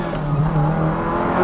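A Ferrari 348 engine pulls hard under acceleration, a loud, steady mechanical drone with a faintly rising pitch, heard close from inside the car over constant road rumble.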